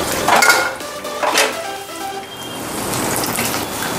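Fried chicken pieces clink into a bowl as they are moved from the pan, with a few sharp metal-and-dish knocks early on, then a soft hissing, rustling background.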